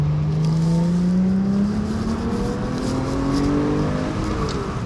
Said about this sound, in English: immensely satisfying engine notes